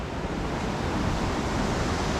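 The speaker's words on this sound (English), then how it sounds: "This is the Pambar river." The Pambar river flows on the route through Chinnar Wildlife Sanctuary near Munnar. A steady, loud rush of water fills the whole moment with a dense, unbroken roar, close by and with no voices over it.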